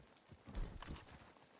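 Horse hooves clip-clopping in a video game, a quiet burst of hoofbeats peaking briefly with faint background sounds.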